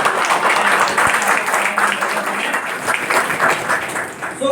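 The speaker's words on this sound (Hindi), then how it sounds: "मेरी जोरदार तालियां।" An audience at a business distributor training session breaks into loud, sustained applause, a thick, continuous roar of clapping that stays strong throughout and eases slightly near the end.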